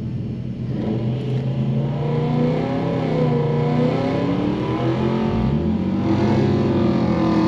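A Nissan R32 makes a drag strip pass, its engine droning steadily in a loud, close, harmonic-rich tone, then swooping as the revs change near the end.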